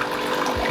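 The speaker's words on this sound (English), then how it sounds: "the machine here has a nice little hot water function, so we can fill our cup with" Hot water streams from an espresso machine's hot water spout into a cup, a close, steady rushing pour.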